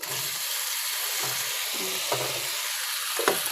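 Taro leaves being stirred in a frying pan sizzle with a constant hiss, broken by several soft scraping strokes of a spatula. The sound is close and moderately loud, with no talking.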